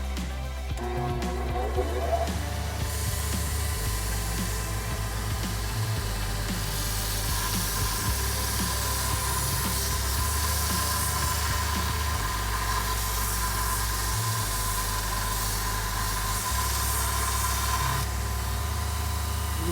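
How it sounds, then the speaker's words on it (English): Belt sander grinding an old steel file into a knife blade, a continuous loud motor hum with steady abrasive hiss throughout, its pitch wavering slightly as pressure on the workpiece changes. "we are going to fire up the old belt sander"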